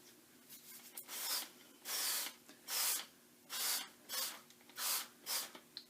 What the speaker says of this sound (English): spray the fabric and leave it to dry naturally